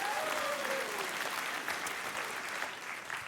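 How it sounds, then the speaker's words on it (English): An audience at a talk on puzzles and graphs breaks into sustained, fairly loud applause that continues steadily, tapering slightly toward the end. "I know you're applauding him and not me, right?"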